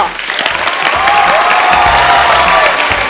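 Loud, sustained audience applause with some cheering at a televised grand finale, welcoming contestants onto the stage, filling the space evenly throughout.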